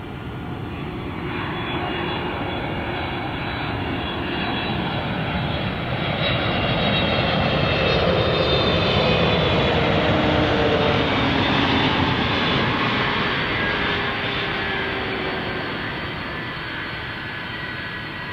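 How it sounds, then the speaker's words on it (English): An airliner's jet engine starting up at Paine Field, the home of Boeing: a steady, broad roar that slowly swells and then eases slightly across the whole stretch. "You can see the engine right there. Furthest to the left starting up"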